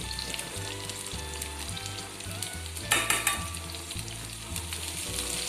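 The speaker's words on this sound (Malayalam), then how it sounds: "അതിലോട്ട് നമുക്ക് ഉള്ളി ഇട്ട് കൊടുക്കാം." Onions dropped into hot oil left from frying prawns for a Kerala prawn and mango curry, giving a close, busy sizzle with a sudden louder burst near the midpoint as they hit the oil, with no speech.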